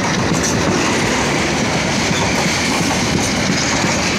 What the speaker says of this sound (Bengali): আমার পাশে একটি ট্রেন দেখতে পাচ্ছেন, এই যে ট্রেনটি দেখতে পাচ্ছেন এই ট্রেনটির নাম হলো মহুয়া কম্পিউটার